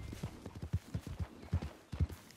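Horse hooves clip-clopping in the Red Dead Redemption 2 video game, a steady run of distinct close hoofbeats at a walking rhythm, moderately loud and heard alone.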